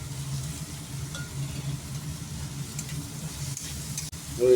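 Tomato added to a hot pan with chopped onion for a prawn and gourd-peel chorchori, a soft steady sizzle with light stirring and a sharp clink near the end.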